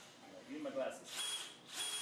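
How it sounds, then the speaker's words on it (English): A drill bores holes in the cross member of a custom pro-touring Z06 Corvette chassis, with two short bursts of high whirring heard faintly after some quiet handling, and low voices nearby. "Let's stick it in and we'll drill some holes."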